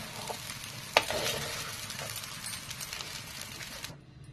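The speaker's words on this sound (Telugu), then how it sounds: "ఇప్పుడు దీనిలో తగినంత సాల్ట్ వేసేసుకొని ఇంకా మనం బాగా కలుపుకోవాలి." Capsicum rice being mixed with salt in a pan, soft scraping and stirring over a light sizzle with one sharp clack of the spoon, close and quiet, ending abruptly.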